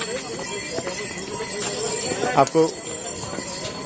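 A horse carrying a young girl on the pilgrimage path to Kedarnath clops along with steady hoof beats, mixed with crowd noise and a voice speaking briefly over the top.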